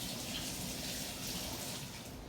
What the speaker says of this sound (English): we're going to wash our hands